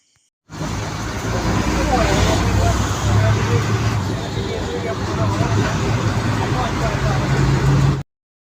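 Riding on a bus through traffic, a steady engine drone and road rumble continue throughout, mixed with the murmur of passengers talking in the background.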